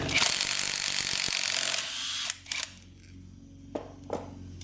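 Ratchet work on a dirt bike flywheel nut, a loud broadband rasping burst up front, then quieter separate clicks and metallic taps near the mic, no talk.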